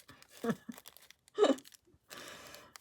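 Tissue paper being crumpled and torn by hand, close and fairly quiet, in short crinkly bursts with pauses, ending in a longer soft rustle.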